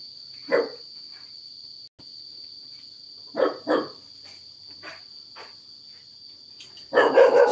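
A dog barks a few times, single barks then a quick pair, against a constant high insect drone, ending in a louder burst.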